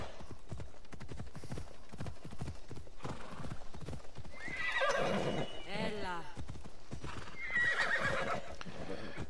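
Horse hooves clip-clop steadily through the ACO video game, with a couple of loud whinnies breaking in midway and again near the end, under a person talking.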